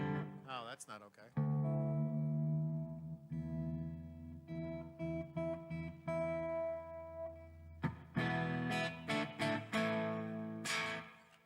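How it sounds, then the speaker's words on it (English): Electric guitar played straight into an amp with heavy, excessive reverb, sustained chords and notes ringing and washing out loudly with brief gaps between strums. "we need to turn that reverb off because that got a little nutty"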